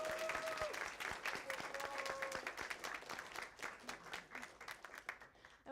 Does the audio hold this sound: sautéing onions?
no